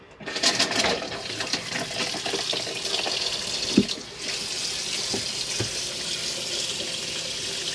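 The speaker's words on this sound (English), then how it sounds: "there's your hot water coming through, even warmer than the kitchen now" Hot water running steadily from the hand basin tap in a Hymer Exsis I698 motorhome bathroom, a close continuous splashing stream with a couple of small knocks partway through.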